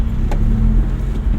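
A car engine pulls steadily, rising in low hum as it accelerates after a shift into second gear during a driving lesson in traffic, continuous and close for the whole moment.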